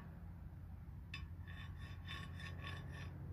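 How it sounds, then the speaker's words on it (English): Rough rasping scrape as the parking brake friction material on a 1999 Ford F-250 with a ZF6 transmission is roughened, a few quick gritty strokes in the second half over a steady low background hum. "you hear that noise, which is the roughening up versus smooth."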